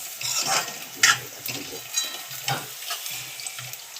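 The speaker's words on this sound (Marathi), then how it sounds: "तेलामध्ये त्यांना मस्त तेलामध्ये परतून घ्यायचं." Ingredients for a dried bombil fish dish sautéing in hot oil, a close crackling sizzle broken by repeated stirring scrapes and soft clanks at an uneven pace.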